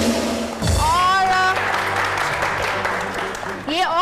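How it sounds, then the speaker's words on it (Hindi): Studio audience applause for a contestant on a Hindi TV show, a loud sustained clapping wash that follows a host's voice and runs for several seconds, with musical tones and a brief voice over it. "बहुत सारी तालियां नुसरत के लिए"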